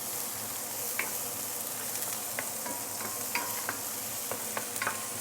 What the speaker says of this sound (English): we can actually put in the fresh herbs and saute for a minute or two